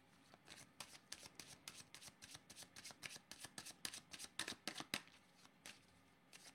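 Tarot cards are shuffled by hand in a run of quick, crisp riffles and soft slaps, close and quiet, with no talking.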